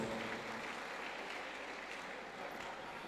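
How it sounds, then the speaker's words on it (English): Steady applause from a crowd, a dense even patter of clapping that holds for about three seconds without letting up. "Let's give them a round of applause."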